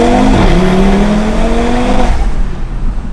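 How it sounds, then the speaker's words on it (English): Audi TT RS with a cold air intake install, loud turbocharged engine pulling hard with a rising, then steady note, cutting off abruptly after two seconds into quieter road rumble. "Car's definitely got a nicer note to it all around."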